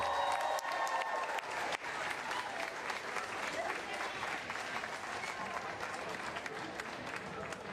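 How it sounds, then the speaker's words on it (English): A school crowd gives a sustained round of applause at a first-day-of-school celebration, dense steady clapping with some cheering that fills the whole stretch at an even, fairly loud level. "Give yourselves a round of applause and let's get started."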